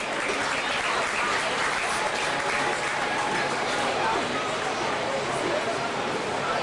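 Crowd applause fills the whole stretch at Highland Speedway during a 50-year racing celebration, a steady, dense clapping roar with faint babble mixed in.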